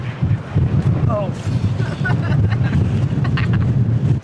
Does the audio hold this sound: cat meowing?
no